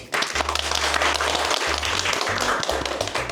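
Meeting attendees at a designated-driver industry forum break into loud, dense applause at the start of the session. The clapping is sustained and close, with a low hum running underneath and no speech.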